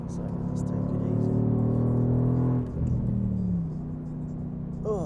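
Nissan GT-R engine droning steadily at speed on the Nordschleife, then dropping in pitch as it downshifts for a corner and settles into a lower hum, with a driver talking over it.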